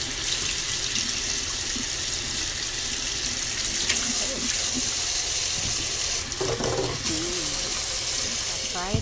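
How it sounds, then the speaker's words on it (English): Hot tap water gushing steadily into a sink over pinto beans, a loud continuous hiss and splash, with faint clinks of the beans being handled and a person speaking briefly underneath. "I'm going to wash the beans a little bit with hot water"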